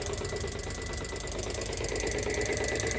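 A farm water-pump motor running steadily nearby, a constant mid-pitched engine drone with a faint knocking pulse and a thin whine, no voices over it.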